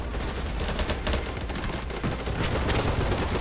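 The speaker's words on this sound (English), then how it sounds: "Some heavy fire right there, fighting right there." Heavy gunfire in the video game BattleBit Remastered, a chaotic, continuous rattle of overlapping rapid shots and bursts, loud and dense throughout.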